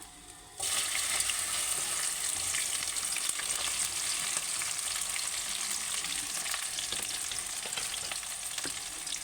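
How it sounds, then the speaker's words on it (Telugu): Okra sizzles in hot oil, a dense crackling hiss that starts abruptly after a brief quiet moment and holds steady and close for the rest of the time, with occasional pops. "సుయ్యి అంటుంది ఇదిగో ఇలా వేసుకోవాలి బెండకాయ"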